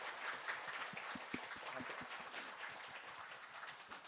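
Applause from the audience at an annual company awards dinner, a soft, steady patter of many hands clapping, heard faintly from a distance with no talk over it.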